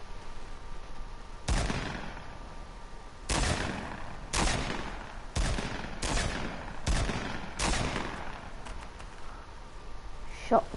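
Shotgun blasts from the video game Fortnite ring out as about six separate loud, sharp shots spaced a second or so apart, over steady game background noise.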